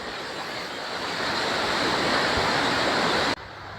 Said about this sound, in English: we saw the waterfalls